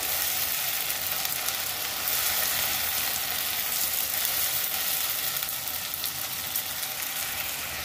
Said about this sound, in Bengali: এটাকে কিছুক্ষণ ভেজে নেব।